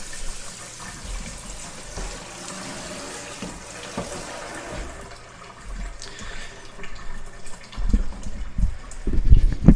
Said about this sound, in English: You can see the water draining off the end.